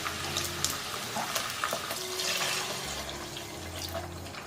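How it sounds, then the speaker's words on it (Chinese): Mushroom soaking water pours into a pan where shiitake mushrooms are searing in chicken fat, a steady close splashing wash that runs the whole time with no talking. "然后加入香菇水"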